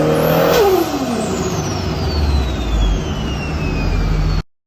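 Toyota GT86 turbo flutter heard close up: a quick fluttering chatter as the throttle lifts, followed by a falling engine note and steady exhaust drone before it cuts off abruptly.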